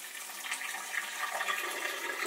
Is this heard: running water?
yes